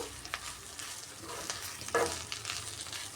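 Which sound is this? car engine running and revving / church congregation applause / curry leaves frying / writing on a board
curry leaves frying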